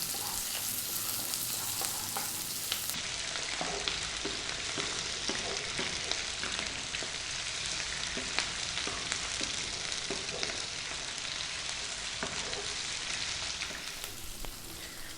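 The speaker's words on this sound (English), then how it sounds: "We're now going to drop in that 1 onion, which I've sliced." Sliced onion frying in hot oil for a vegan mushroom potato curry gives a steady, close, dense sizzle with faint crackles and occasional soft stirring clicks throughout, with no talking.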